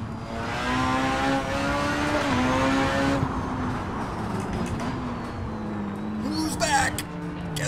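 A 1300hp Honda Civic hatchback in a racing video game revs hard with a loud, rising engine whine that drops through shifts and climbs again, with a tire squeal near the end.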